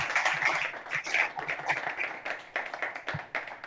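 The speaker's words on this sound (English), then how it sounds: "A big round of applause for them too." Applause at a defence-tech community hangout, a thin, uneven patter of individual claps from a small crowd, moderately close and fading toward the end.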